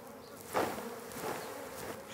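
Bees shaken in a white container during an alcohol wash for varroa mites, a dense close buzzing hum that swells sharply as the container is jolted, then keeps droning at steady loudness.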